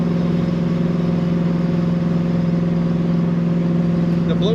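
A 1968 Chevrolet Camaro coupe's engine runs at a steady idle with a low, even rumble throughout, loud and close, with no voices over it.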